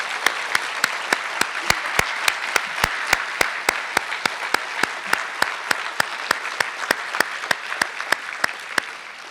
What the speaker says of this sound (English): let's give the candidates one more round of applause